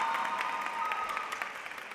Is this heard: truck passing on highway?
no